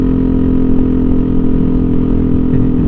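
A Yamaha NMAX 155 scooter fitted with a TZM racing exhaust runs close by with a loud, steady, throaty engine drone that holds an even level throughout without any talk.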